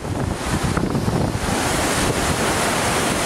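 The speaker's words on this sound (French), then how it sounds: "Le vent souffle à 160 km/h." Strong hurricane wind on the New Jersey coast, a loud continuous roar buffeting the microphone, mixed with the rush of surf, with no voices heard.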